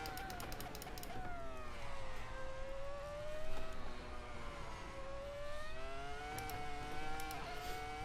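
A Ferrari F2004 Formula One engine in Assetto Corsa VR, lapping Road Atlanta, howls in a high-pitched tone that swells and dips with revs and gear changes, sustained and close throughout.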